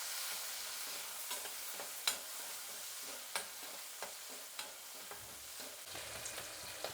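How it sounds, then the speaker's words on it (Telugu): Green chillies frying in hot oil in a pan, giving a steady soft sizzle broken by scattered pops and crackles and light stirring scrapes, moderately close with no talking. "ఇందులోకి ఇంకొద్దిగా ఆయిల్, పచ్చిమిరపకాయలు కొద్దిగా వేగిన తర్వాత టమాటా వేద్దాం"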